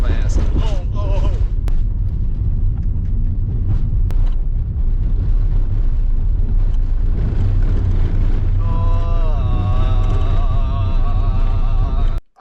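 Ford Transit Connect van driving fast down a forest road, a loud continuous low rumble of engine and road noise with wind buffeting, steady throughout and cutting off abruptly at the end.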